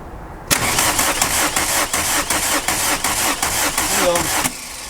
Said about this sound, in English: let's just get the engine started, turn it over